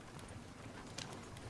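Horse hooves clip-clop at a steady walking rhythm in the Red Dead Redemption 2 video game, soft and fairly distant under a faint wash of ambient noise.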